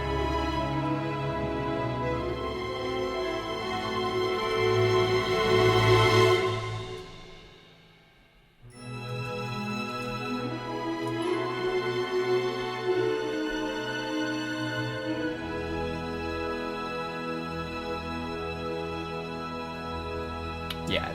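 An orchestral string piece with a flute doubling the line plays softly and sustained, swelling and then dropping to near silence before resuming at a gentle, even level.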